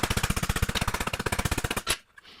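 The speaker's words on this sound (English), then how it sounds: "I'm going to tune this up with just a couple of hits in this area." A hammer strikes sheet metal over a hammer form in a fast, even barrage of about thirty sharp, close blows, ending with one heavier hit and a brief ringing fade.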